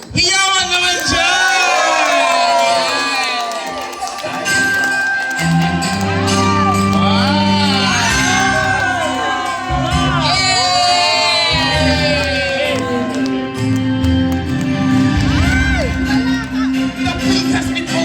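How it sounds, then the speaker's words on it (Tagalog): A loud crowd whoops, shouts and cheers at a year-end celebration where a roast pig lechon is unboxed, the high excited voices and yells rising and falling in steady waves. "Hiyawan naman siya!"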